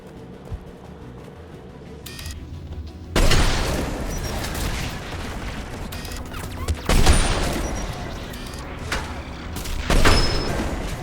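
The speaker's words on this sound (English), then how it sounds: "There, the anti-aircraft guns." Anti-aircraft guns fire in the Mass Effect 3 video game, heavy booming bursts of rapid fire recurring in loud volleys over a constant low rumble, with no talk.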